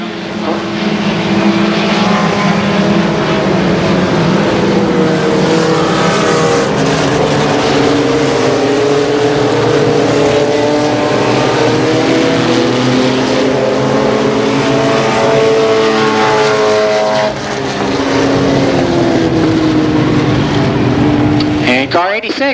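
Several mini stock race cars roar around the Columbus Motor Speedway oval in 1990, a loud, continuous engine drone with rising and falling pitches from the passing pack, a brief dip near the end, and an announcer talking over the noise.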